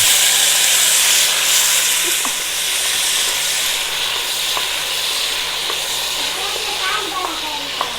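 Halved tomatoes fry in hot olive oil with garlic, a loud continuous sizzle and crackle with scattered pops and stirring, heard alongside a person talking.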